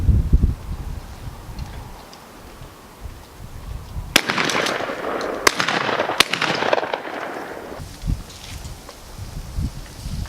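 Shotgun blasts during a pigeon hunting tournament outdoors, three sharp loud reports a second or so apart, each followed by a rushing echo, with rustling and wind before and after.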